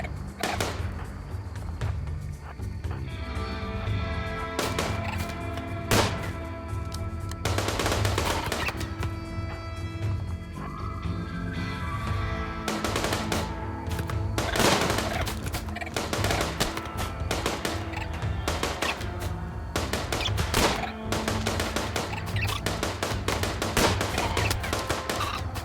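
Sustained gunfire from a battle against mechs in the video game Rimworld: dense, rapid bursts and single shots crackle almost nonstop for the whole stretch over a steady droning tonal background.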